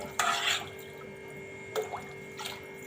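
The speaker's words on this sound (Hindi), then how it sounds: "ये खिचड़ी में मैंने पानी डाल दिया" Water poured into khichdi in a cooking pot, a short splashy burst followed by two briefer splashes and drips against a steady electrical hum, close and fairly quiet.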